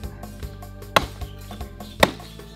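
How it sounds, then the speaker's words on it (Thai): A cleaver chops a grouper's head away from the bones on a board, with two hard, sharp strikes among lighter, softer taps, close up and without talk. "สับแยกชิ้นก้างและส่วนหัวออกจากกัน"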